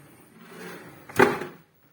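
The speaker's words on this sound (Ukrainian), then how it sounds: "для натискання за дверкою сховані дві шухляди" Push-to-open kitchen drawer behind a cabinet door, a soft sliding rustle building up to one sharp wooden knock, then silence.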